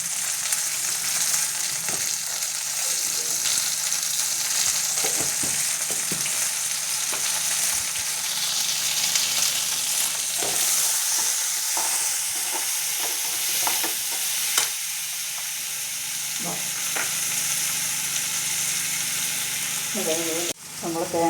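Shallots sautéing with salt and turmeric powder for a coconut curry, a steady close hiss of frying in the pan with occasional stirring scrapes and clinks, no speech.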